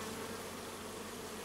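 Honeybees of the Carpatica strain buzz around an open Miniplus hive during an inspection, a faint, dense, continuous hum with no pauses.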